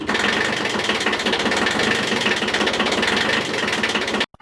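A Kubota engine idles in cold weather, loud and close, with a steady rapid knocking chug that runs without a break for about four seconds before cutting off abruptly.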